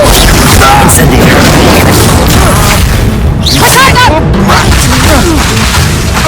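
Spell combat in the video game Hogwarts Legacy as the Incendio fire spell is cast, dense booming bursts and crashing impacts with whooshes, under a player's shouted incantations.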